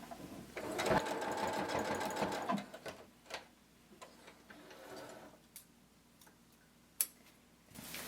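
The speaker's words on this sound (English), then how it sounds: "now we're going to sew the entire side seam" A sewing machine stitches the side seam of a sequin cardigan sleeve, whirring in a rapid, rattling run for about two seconds, then falling to sparse ticks and clicks.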